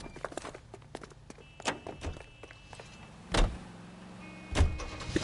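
Getting into a car in the game L.A. Noire: footsteps, door thuds and mechanical clicks and whirs, with a few sharp bangs spaced out over a quiet background.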